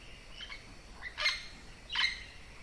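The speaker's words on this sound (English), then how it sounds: "Birdsong is best heard in the early mornings, and if you're up early like me, it's impossible to ignore." Tropical birds calling in a quiet forest at Tikal, Guatemala, a few faint chirps followed by two louder, sharp calls over soft background hiss.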